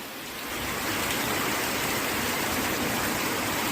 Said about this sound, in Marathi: आता धो धो पाऊस पडायला लागलाय. हे बघा, पाणी वाहतंय.